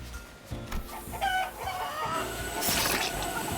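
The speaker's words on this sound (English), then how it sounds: "You see live chickens whose wings and legs are being cut endlessly." Live chickens cluck in the game Limbus Company, a grim scene of fowl whose wings and legs are being cut; several birds make scattered, overlapping clucks and squawks at close range, with a busy mechanical background.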